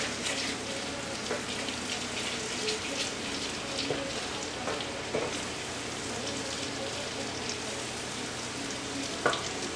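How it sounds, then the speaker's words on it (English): Shrimp sautéing in a pan: a steady, even sizzle and crackle that runs the whole time, with a few brief clicks and pops rising above it. "I'm going to saute that just for a minute or so."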